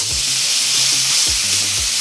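A steak sears in a hot pan just after flipping, giving a loud, steady close-up sizzle with faint scraping and bumping underneath.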